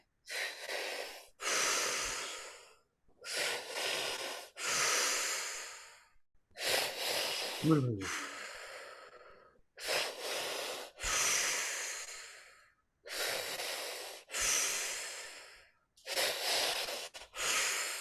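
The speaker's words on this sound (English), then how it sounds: "Letting the breath move in and out of your body, letting the breath do the work." Slow guided breathing: a series of long, deliberate in and out breaths, loud and close, each one separated by a short silence in a steady rhythm.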